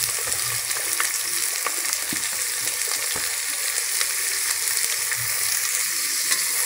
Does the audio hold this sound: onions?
yes